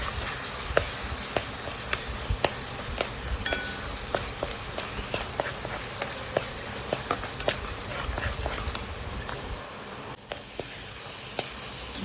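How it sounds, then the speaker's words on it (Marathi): A ground spice paste fries in oil for a traditional Bhogi vegetable dish, sizzling and hissing continuously close by, with frequent sharp pops and spatters throughout. "आता हे मसाला आपल्याला चांगला तेल पर्यंत फ्राय करून घेतो"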